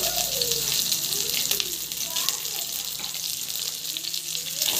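Green chillies frying in oil and ghee with onion and biryani spices, a bright continuous sizzle close by, with a voice speaking over it at times.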